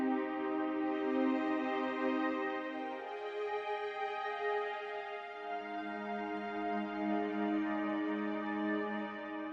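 Soft, sustained Omnisphere synthesizer patch with a lengthened release, held tonal chords shifting pitch a couple of times and fading smoothly, quiet and alone without voices.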